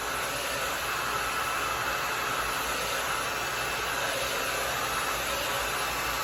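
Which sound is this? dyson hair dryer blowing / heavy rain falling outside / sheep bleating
dyson hair dryer blowing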